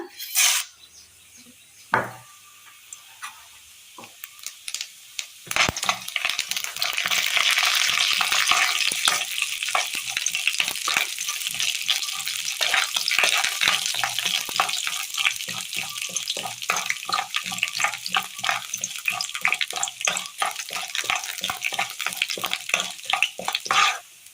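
Mustard seeds and urad dal crackle and fry in hot oil for a Kerala curry tempering, a close, continuous sputter with many fast pops that starts after a few stray clinks of a pan and carries on steadily to the end.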